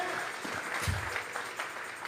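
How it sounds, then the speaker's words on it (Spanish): A church congregation claps as an offering of praise to God during a Tuesday Bible study, a soft, diffuse patter of many hands heard at a distance, steady and fairly faint. "Vamos a regalarle ofrenda de palmas al Dios de la gloria"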